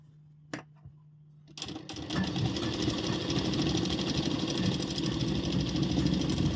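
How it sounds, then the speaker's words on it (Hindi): Sewing machine stitching the crotch seam of a ladies' salwar. After a near-silent moment with a couple of clicks, it starts up and runs in a fast, steady mechanical rattle up close. "मियानी पे जब आप स्टिचिंग का काम करें तो वहाँ सिलाई जो है वो डबल कर दें"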